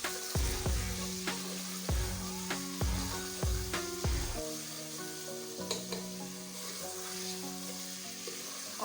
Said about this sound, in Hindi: तीन से 4 मिनट चिकन को अच्छी तरह फ्राई करेंगे।